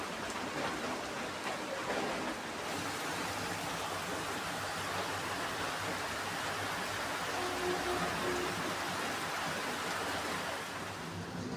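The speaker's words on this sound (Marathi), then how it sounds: "आणि तो पण मोठा पाऊस चालू आहे आता." Heavy rain falls in a steady, dense hiss that stays even from start to finish. It is fairly faint and distant, with no voices.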